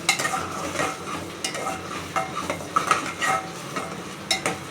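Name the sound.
biryani masala and chicken frying and being stirred in a pan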